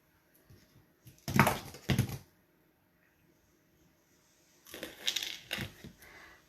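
Cutters snip the end off a decorated jewelry ear wire, with two sharp clicks close together followed by a few more faint snips and handling sounds after a quiet pause, all very near and soft.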